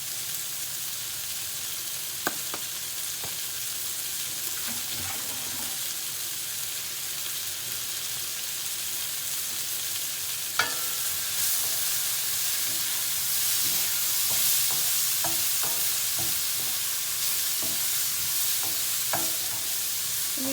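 Vegetables for a butternut squash gnocchi primavera sizzle steadily in a pan, with a bright continuous hiss of frying broken by occasional scraping stirs and light clinks up close.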